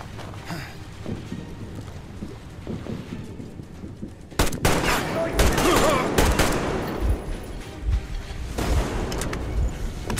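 Gunfire in the Metro Exodus video game, with a burst of loud, dense shooting breaking in partway through after a quieter stretch and continuing at close range, mixed with game effects.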